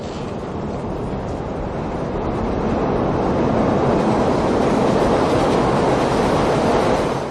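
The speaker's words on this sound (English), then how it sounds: "It's the 4 train in the Bronx." A New York 4 subway train runs through the Bronx, a steady loud roaring rumble that swells slightly and holds without a break, with no voices.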